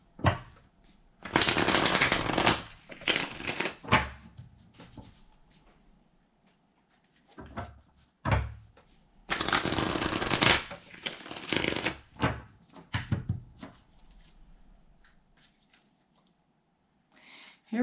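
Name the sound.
shuffling tarot cards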